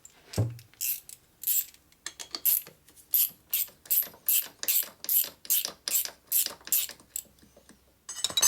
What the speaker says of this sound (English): I gotta get that fitting off of there, loosened up anyway